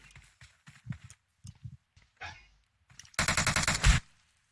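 Gunfire in the mobile shooter PUBG Mobile: scattered footsteps and soft thuds, then a close, loud burst of rapid automatic shots firing about a dozen times in quick rhythm before stopping.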